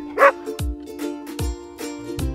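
A dog barks close by, several sharp separate woofs in an uneven rhythm over a steady background hum.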